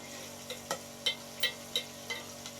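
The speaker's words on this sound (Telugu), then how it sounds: "ఆ ఉల్లిపాయలు పచ్చిమిర్చి బాగా వేగేంత వరకు వేయించుకోవాలి" Onions and green chillies fry quietly in a pan over a wood-fired stove, a soft low sizzle broken by about seven light stirring scrapes at uneven intervals.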